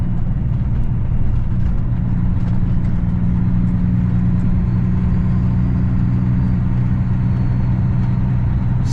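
A truck rolling slowly down a snowy road in Iowa, heard from inside the cab as a steady, loud low engine drone and road rumble with no break.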